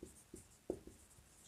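Chalk or marker writing on a board in a maths classroom: a few short, soft scratchy strokes in quick succession, close and faint, with no voice.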